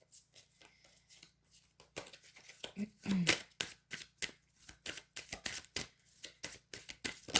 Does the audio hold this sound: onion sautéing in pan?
no